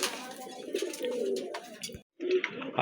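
Pigeons cooing close by at a pigeon farm, soft rolling coos repeating across the moment with a brief pause, and faint voices in the background.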